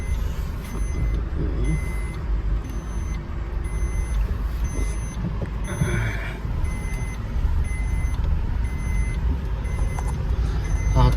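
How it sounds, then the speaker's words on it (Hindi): A car reverses with a steady, evenly spaced series of high electronic reversing beeps, about one a second, over a constant low engine and traffic rumble. "गाड़ी पहले बैक लूँ।"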